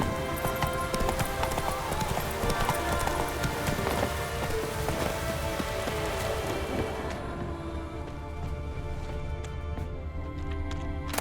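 Horse hooves clip-clopping at a steady pace in the Witcher 3 Wild Hunt game, dense and close, mixed with rain falling on surfaces, thinning out toward the end.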